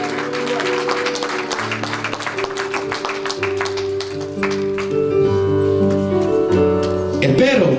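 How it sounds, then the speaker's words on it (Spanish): A church congregation claps in rhythm along with sustained keyboard or organ music during a worship service, the claps steady and dense throughout, with the music swelling near the end. "Denle aplauso al Señor en esta hora, aleluya"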